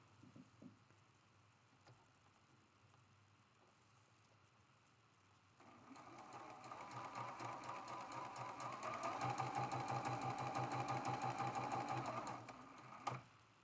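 A sewing machine stitches quilt block pieces, starting after a quiet stretch of handling and running as a fast, even mechanical whir with rhythmic ticking for several seconds before stopping.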